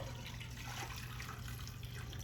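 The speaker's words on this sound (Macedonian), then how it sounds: "Значи додавам вода." Water is poured steadily into a cooking pot of stewed sorrel and meat broth, a continuous soft splashing rush that stays even throughout, with no talk.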